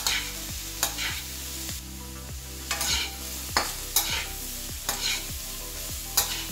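Bitter gourd fries and sizzles in a pan with a green chili, with a steady hiss broken by rhythmic scraping strokes of a spatula stirring the slices, close and clear with no talk.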